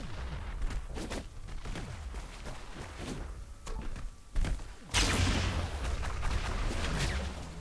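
Bouncing rockets exploding in a competitive video game match, an IPL6 qualifier final, as a string of booms and blasts over a continuous noisy battle bed, with a louder, sustained burst near the end; no talking.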